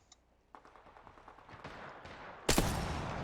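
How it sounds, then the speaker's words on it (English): Gunfire in a Season 13 Apex Legends match, faint clicking shots building into a denser burst, then a loud, sharp blast near the end that carries into a lingering roar. "Getting shot at."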